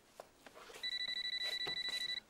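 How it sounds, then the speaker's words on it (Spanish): A telephone rings with a rapid electronic trilling tone, a steady pulsing burst starting partway in over faint background noise. "Coge el teléfono."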